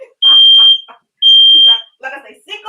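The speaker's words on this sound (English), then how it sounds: "We are now having an alarm." A kitchen smoke alarm goes off during cooking, sounding two long, loud, steady electronic beeps with pauses between them, while a person talks over and after them.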